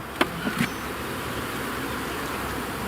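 Honeybees buzz steadily around a busy hive, a dense continuous hum with a few faint clicks, moderately quiet and without speech.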